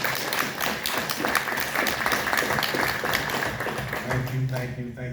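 A panel audience applauds in a sustained, loud burst of many hands clapping, with a voice talking over it near the end.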